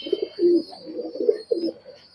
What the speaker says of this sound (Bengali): আরেকটা কবুতর দেখতে পাচ্ছি আপনার হাতে